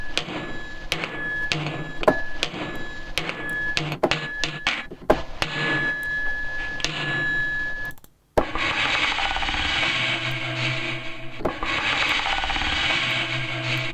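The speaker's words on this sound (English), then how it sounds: "That's just a coin scraping along." A coin scraping along a hard surface, recorded as a sample for drum and bass production, with a run of sharp clicks and rasping scrapes that cuts out and then gives way to a steady, dense, noisy scrape.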